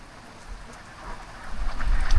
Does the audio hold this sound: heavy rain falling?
yes